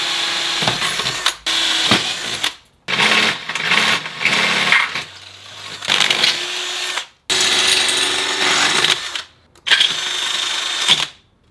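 A power drill boring holes in a template base for mounting brackets during a Subaru EZ30R engine swap into a vintage Porsche 911, heard as repeated loud bursts of whirring separated by short pauses.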